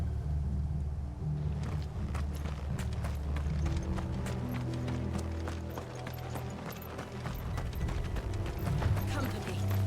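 Horses gallop in Final Fantasy XVI, with dense rhythmic hoofbeats clattering over a steady low rumble of game music and ambience, loud and continuous throughout.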